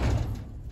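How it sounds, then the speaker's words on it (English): A sticking barn door in a mini donkey's stall is dragged open, giving a single heavy, close scraping thud that quickly fades. "door right here, kind of sticks at the top, so it takes me a minute to pull it"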